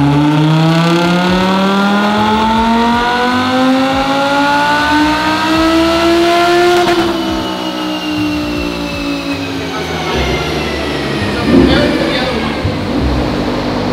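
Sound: supercharged Audi R8 engine revving on dyno

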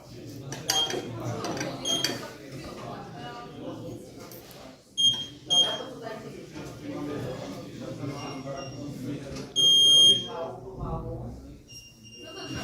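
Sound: electronic code lock beeping

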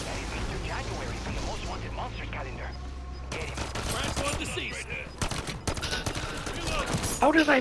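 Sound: gunfire in the video game Call of Duty

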